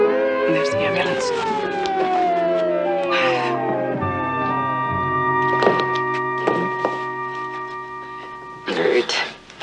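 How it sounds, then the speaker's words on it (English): A wailing siren sweeps up and down in pitch, sounding steady and fairly close, with sharp thuds and a voice breaking in near the end. "And there's the ambulance."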